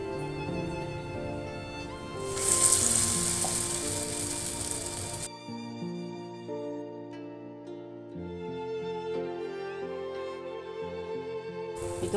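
Black-eyed bean bondas fry in hot oil with a soft, crackling sizzle that swells briefly, heard beneath melodic background music.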